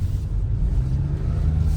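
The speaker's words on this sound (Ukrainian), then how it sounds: "Зараз я вам покажу динаміку цього автомобільчика" A 2011 Renault Megane 3 with a 2.0 dCi engine and torque-converter automatic gearbox pulls away, giving a close, steady, deep engine rumble with no voices.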